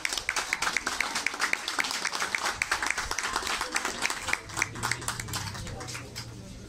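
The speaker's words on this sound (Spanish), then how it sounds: "Fuerte el aplauso para él, por favor." An audience applauds the founder of a religious pilgrimage in Nauzontla with dense, rapid clapping that stays loud and steady, then thins out near the end.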